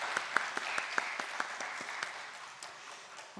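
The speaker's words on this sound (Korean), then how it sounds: "우리 박수 한번 보내주시겠습니다" Applause from a church congregation at a Friday evening service, scattered individual claps at first that blend into a fuller round and then thin out, heard at a modest level.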